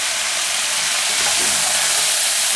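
Chopped onion fries in a hot pan while the meat dries out, giving a loud, steady, close sizzle and hiss that holds without a break and has no voices over it.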